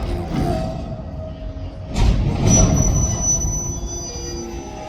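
Rail cars shift during switching, with a sustained metallic wheel squeal over a low rumble and a heavy clank at about the two-second mark.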